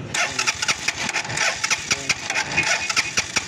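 A motorcycle with an AC/CDI ignition and a suspected bad stator is cranked, giving a series of sharp, irregular sputtering bursts and starter clatter, close and fairly loud, with no steady running.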